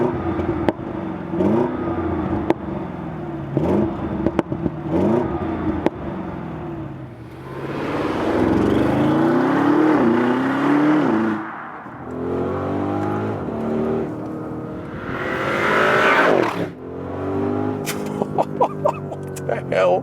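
Audi RSQ8, the top sports version of the Audi Q8, driving hard with its engine rising and falling through revs and shifts, loud and close, while someone talks over much of it.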